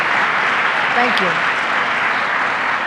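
Steady round of applause from an audience honoring state senators and an assembly member at a public site event, filling the space evenly while a speaker's voice briefly comes through over it.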